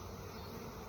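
Honeybees buzzing around a hive frame of capped honey, a faint, steady hum that holds through a single second with no voices.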